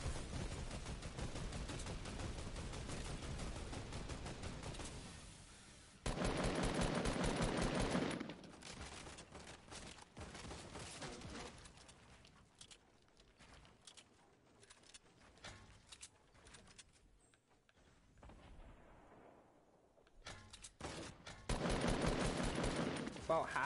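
Gunfire in the battle royale game Fortnite, in a duos match: loud rapid bursts of shots come in several volleys, with quieter stretches of scattered shots between them and a voice talking at times.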